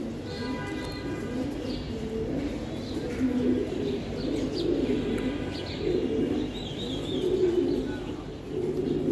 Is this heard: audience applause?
no